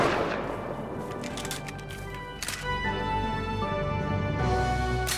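Gunfire in the survival game Rust during a base fight, with bursts of shots crackling through the first half, a brief lull, then renewed firing over steady in-game ambience.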